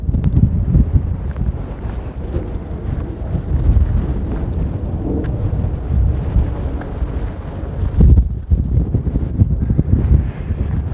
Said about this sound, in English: if that wind had dropped